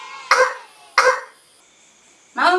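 Two sharp coughs in quick succession, then a pause and a third cough, close and fairly loud with quiet between them.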